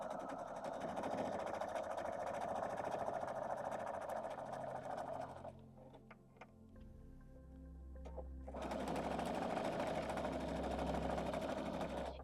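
A sewing machine stitches quilt scraps together in steady, continuous bursts. It runs loud from the start, pauses for about three seconds of near quiet with small handling clicks, then resumes at full speed.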